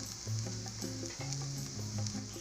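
Eggplant fries in oil in a pan, giving a continuous close sizzling hiss with occasional stirring scrapes, moderately loud and without speech.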